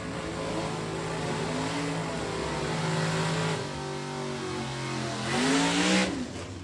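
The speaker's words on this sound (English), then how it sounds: "Mark Sanders in the GTA F Automatic Cobalt drives into the right lane with the PK race car team" A GTA F automatic Chevrolet Cobalt drag racing car idles and rumbles steadily as it pulls into the right lane at a drag strip, engine note rising briefly near the end with a swell of revving.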